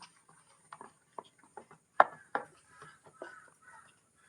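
A spoon whisks semolina appam batter with Eno and water in a bowl, giving sparse, uneven clicks and soft taps against the bowl, close and quiet, with one sharper knock midway.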